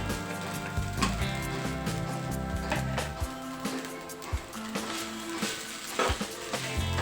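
Soaked sago pearls for khichdi fry in a pan with a busy crackling sizzle, mixed with clinks and scrapes of a spoon against the metal; there is no speech.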